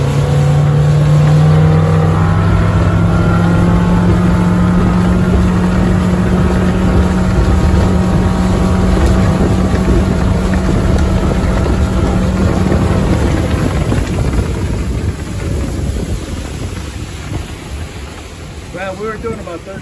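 Carolina Skiff 23LS boat on Lake Worth powering up at full throttle, a loud, steady outboard drone with rising pitch and wind and water rush, then easing off and fading in the final seconds.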